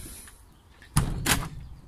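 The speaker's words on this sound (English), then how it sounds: "I'll shut this door." A polytunnel door is shut in a garden greenhouse, making a sharp sliding thud followed by a second rattling knock, close and fairly loud against a quiet background.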